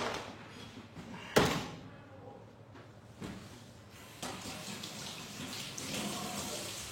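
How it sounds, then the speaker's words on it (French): Water running and splashing in a kitchen sink during rinsing, with a sharp bang early on and a few knocks, the flow swelling louder toward the end. "Maintenant, je vais rincer."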